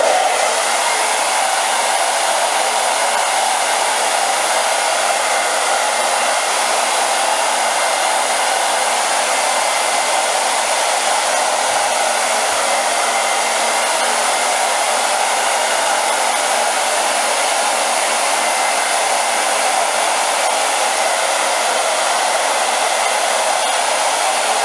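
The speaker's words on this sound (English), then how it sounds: "I'm blow drying down" A hair dryer blows continuously on a beard, a loud, steady broadband whoosh with no pauses and no talking over it.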